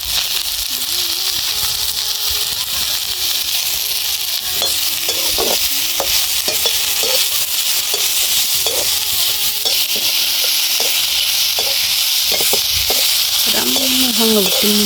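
Local hill-region mushrooms fry in a pan, a loud constant sizzle with the scrape of stirring, heard up close, with a voice speaking briefly over it.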